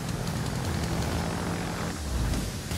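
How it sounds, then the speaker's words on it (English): Aircraft engines of planes in the World of Warships naval video game drone loudly and continuously, a rumbling propeller-like roar that swells slightly near the end with no talk over it. "Here goes the planes on A side."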